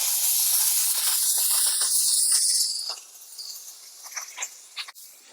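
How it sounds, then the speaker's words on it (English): A steamer used to remove window tint gives off a loud, continuous high hiss for a few seconds, then cuts back to quieter intermittent bursts and scattered soft clicks. "I'm going to use a lot more steam here"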